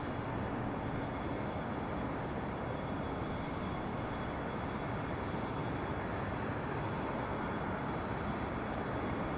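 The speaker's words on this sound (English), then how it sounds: "A380 here on the north side." An Airbus A380 jet airliner at Los Angeles International Airport makes a steady, broad roar that holds at an even level throughout, distant and continuous with no talk.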